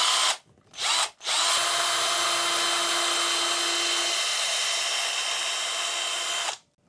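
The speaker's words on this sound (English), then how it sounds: "Now I'm going to go ahead and drill the holes for the hinges." A power drill bores hinge holes in a carved wooden hickory shad crankbait fishing lure. Two short bursts come first, then one steady, close, high-pitched whine that runs several seconds before stopping.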